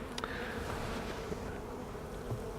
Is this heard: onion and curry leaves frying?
no